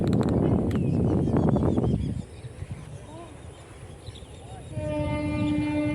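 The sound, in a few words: passing train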